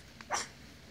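A pet monkey gives a single short, sharp bark-like call once, fairly faint, against a quiet background.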